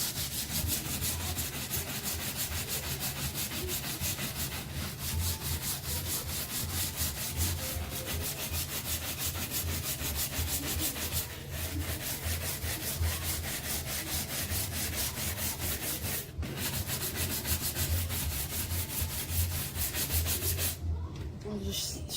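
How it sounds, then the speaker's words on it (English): A brush scrubbing kitchen grout lines soaked with straight bleach, a continuous close, gritty scratching that runs unbroken with only a few brief pauses. "taking some straight bleach and scrubbing in between there"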